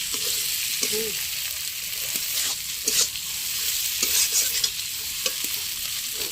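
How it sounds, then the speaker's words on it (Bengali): Plantain pieces fry in a pan on a gas stove, giving a steady close sizzle broken by the scrape and clack of a spatula stirring at intervals. There is no talk over it. "দেখতে পাচ্ছ একটু বেশি পরিমাণে ভাজতে লাগবে কারণ সবজিটাকে"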